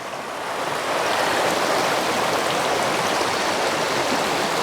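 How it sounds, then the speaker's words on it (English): A Michigan river flowing near a waterfall on a hiking trail, a steady broadband rush of water that swells in during the first second and then holds loud and even throughout, with no voices. "Let's check out the river."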